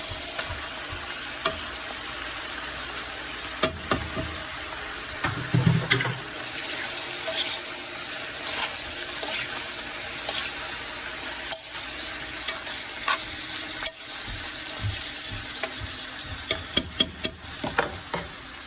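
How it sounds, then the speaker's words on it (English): Ackee goes into a hot pan and cooks, giving a steady soft sizzle and frying hiss with occasional stirring scrapes and clicks, close up and alone without talk. "Now I'll add my ackee."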